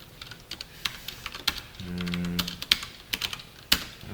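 Code is typed on a computer keyboard in short bursts of crisp, close keystrokes, with brief pauses and a low steady tone in the middle stretch.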